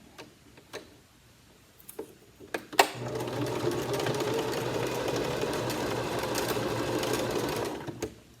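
A sewing machine stitching upcycled t-shirt fabric starts after a few light taps and clicks, then runs steadily in a loud continuous whir for about five seconds before stopping.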